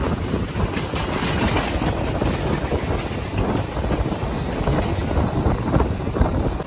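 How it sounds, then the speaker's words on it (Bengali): A local train pulls out of Barrackpore railway station, its loud, steady rumble and rattling wheels running continuously with heavy wind buffeting the microphone. "তো ছেড়ে দিল আমাদের ট্রেনটি ব্যারাকপুর রেলওয়ে স্টেশন থেকে"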